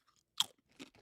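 Someone bites into a crunchy snack with one sharp, close crunch, followed by two softer chewing crunches in an otherwise silent room.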